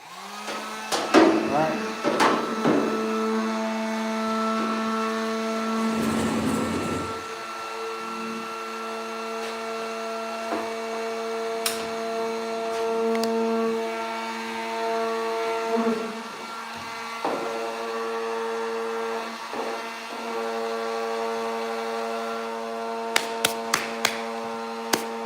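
A heat gun running while a dented car fender is repaired, a steady droning whine with strong tonal hum, punctuated by clicks and handling knocks, and someone speaking briefly near the start.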